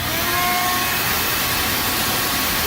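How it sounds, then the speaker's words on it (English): Shop vac running while cleaning a car, a loud, steady motor whine with roaring airflow that holds constant and close for the whole stretch. "We call this a shop vac because it says right here, shop vac."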